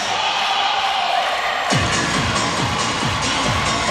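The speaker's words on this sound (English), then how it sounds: "Good crowd in Evansville." Large arena crowd at the 2019 Division II basketball championship in Evansville, Northwest Missouri State against Point Loma, a steady dense roar that swells into loud cheering partway through.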